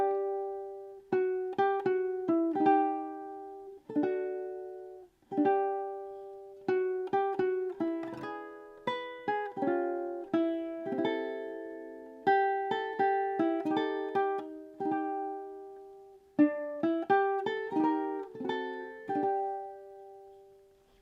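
Ukulele plays the closing measures of a song, strummed chords and plucked notes in a gentle steady rhythm, clear and alone.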